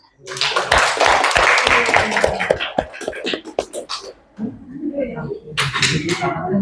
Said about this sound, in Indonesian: teman-teman, tepuk tangan untuk kita semua.